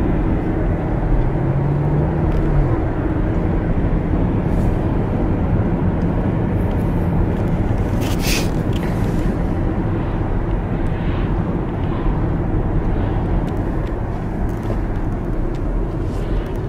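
An airplane passes somewhere overhead while riding along a Quebec road, its broad steady roar blending with continuous road and vehicle rumble throughout, with no clear swell or fade standing out.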